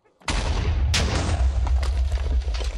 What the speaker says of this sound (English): Let's try some explosions.